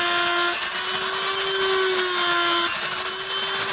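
A power drill with a thin bit bores holes in PVC pipe, giving a loud, steady high whine with slight pitch shifts, close and uninterrupted, with no voices.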